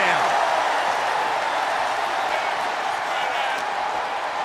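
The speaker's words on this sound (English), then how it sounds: "The roar of this crowd has been building, and they are at a fever pitch right now." A wrestling arena crowd in the WWE 2K25 video game roars in a steady, dense wall of cheering, loud and unbroken throughout with no pauses.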